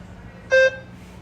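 A single short electronic beep, clear and steady, sounds once over a faint background hum.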